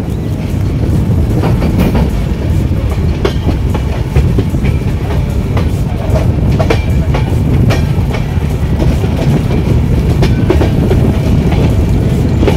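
A Swaraj Express passenger train pulls out of Jalandhar and runs along the tracks with a steady, loud rolling rumble and rhythmic clickety-clack of wheels over rail joints throughout, with no voices.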